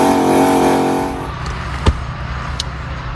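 A turbocharged Town Car running 24 psi launches down a quarter-mile drag strip with its tires spinning; the engine roars loudly for about a second, then fades quickly into the distance, leaving a faint background and a brief thump.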